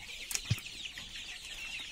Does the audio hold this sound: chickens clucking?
yes